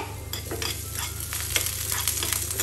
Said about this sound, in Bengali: এখন আমি শুকনো মরিচ কুচি আর রসুন কুচি এটা দিয়ে দিলাম। দিয়ে আমি ভালো মতো করে নাড়া দিব